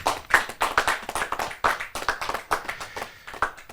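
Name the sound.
applause at a Hindi poetry gathering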